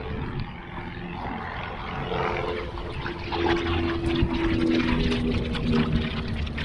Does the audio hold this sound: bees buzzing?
no